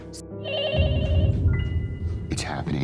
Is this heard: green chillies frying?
no